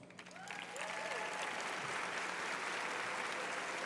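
Applause at a school leadership conference swells quickly from scattered claps into steady, sustained clapping from a large standing crowd, with a few voices audible early on.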